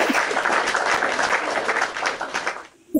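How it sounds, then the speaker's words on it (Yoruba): Audience applause, a dense burst of many hands clapping at moderate distance that fades toward the end, followed by a brief sound at the very close. "Àtẹ́wọ́ fún yín."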